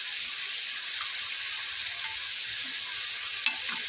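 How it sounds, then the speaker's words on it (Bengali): A spice paste with a little added water sizzles in a pan as it is stirred, a constant close hiss with a few light scraping clicks. "সেই বাটিটা ধুয়েও আমি একটু জল দিয়ে দিলাম"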